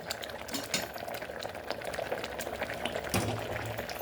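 Cucumber and mustard gojju sweetened with jaggery bubbles quietly in a pot, with soft, continuous popping and an occasional clink of a stirring spoon.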